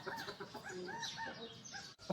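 A rooster circling a car, giving a few soft, quavering clucks in a short run, faint and close, ending with a brief knock.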